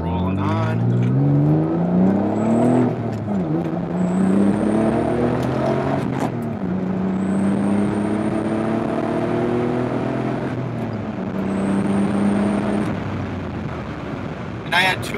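A twin-turbo Stealth R/T accelerates hard, its engine note rising through gears in several climbing sweeps with brief dips at each shift and a faint high turbo whistle, loud and close from inside the car.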